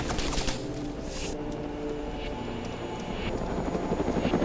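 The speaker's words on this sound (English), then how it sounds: "This is the only place I'm gonna be able to take on this helicopter safely." Helicopter flying in the Arma 2 DayZ Mod video game, a continuous, fairly close rotor thump and engine whine that holds steady and grows slightly louder toward the end.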